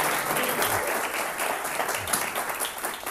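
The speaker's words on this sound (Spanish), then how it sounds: "Un aplauso a Franco." Classroom audience applauding a guest, with continuous, even clapping from many hands filling the room at moderate volume.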